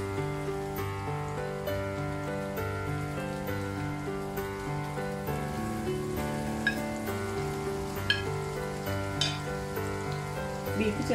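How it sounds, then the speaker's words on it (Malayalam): Beef dropped into well-heated oil for beef chilly gives a steady, close crackling sizzle with scattered sharp pops. A sustained tonal layer, likely background music, runs underneath. "നന്നായി തിളച്ച എണ്ണയിലേക്ക് ബീഫ് ചേർത്ത് കൊടുക്കാം."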